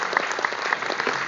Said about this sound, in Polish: Szanowni Państwo, duże brawa.